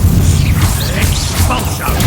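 Loud, dense magical impact from a Reducto spell in the video game Hogwarts Legacy, a heavy crashing boom with debris-like rumble filling the whole moment during combat.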